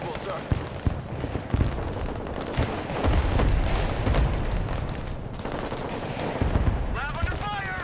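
Dense gunfire and heavy weapon blasts fill a Broken Arrow real-time strategy battle, with bursts of machine-gun fire and booming impacts rolling continuously, loud and layered, as a voice calls out over the noise.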